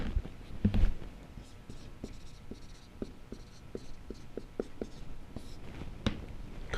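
Pen strokes on paper as someone writes a word down by hand, giving a series of faint, quick scratching taps at a steady rhythm. The scratching is close and quiet, with soft speech at the start.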